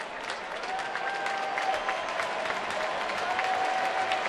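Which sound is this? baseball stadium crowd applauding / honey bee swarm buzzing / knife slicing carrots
baseball stadium crowd applauding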